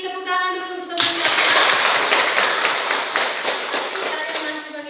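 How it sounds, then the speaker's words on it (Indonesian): Students in a classroom break into applause after a brief quiet moment, a dense burst of clapping that holds steady for several seconds before fading slightly, with a voice faintly audible at the very start. "Tepuk tangan dulu untuk teman-teman."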